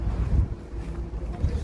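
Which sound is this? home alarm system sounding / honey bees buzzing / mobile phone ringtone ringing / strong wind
strong wind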